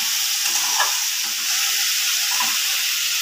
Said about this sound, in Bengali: এবার আমি ভালো করে এটা ভেজে নেব গাঁঠিটা।